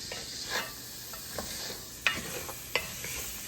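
Vegetables, including carrots, sizzle softly and steadily in a pot with occasional clinks and stirring scrapes, fairly close and moderately quiet.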